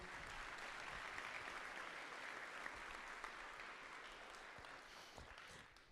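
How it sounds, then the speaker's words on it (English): A crowd applauds bronze medal winners at a miniature painting competition awards ceremony, with sustained, even clapping from many people filling a large hall at a steady level. "A round of applause,"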